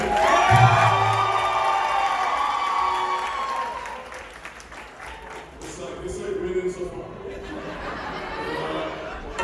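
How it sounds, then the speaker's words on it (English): Wedding guests at a Vivaah Sanskar applaud and cheer for the family, a crowd burst with laughter and shouts that fades into scattered clapping and murmuring voices. "let me ask you to give a big round of applause to Randy's family"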